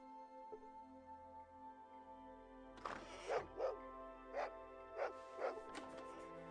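A dog barks in the Fallout 2 video game, about six short barks in an uneven series after a quiet start, moderately loud against a steady low game drone with no talking.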